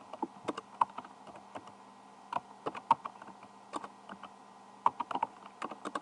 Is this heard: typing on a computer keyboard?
yes